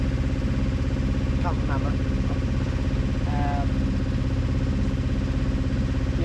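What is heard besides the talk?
boat engine running while crossing the North Channel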